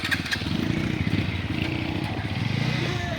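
Motorcycles rumble past during a village Karthika festival procession for the deity Lakshmi Ranganatha Swamy, with a steady mid-pitched engine drone close by and faint voices in the background.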